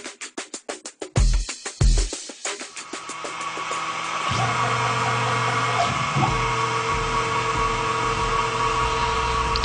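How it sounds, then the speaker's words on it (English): Shop vacuum switching on near a drill press boring cast iron, a few sharp clunks and pulses giving way to a steady loud suction whine and roar, with a higher drill hum joining partway. "We like to use a vacuum to pick up the chips and keep things clean."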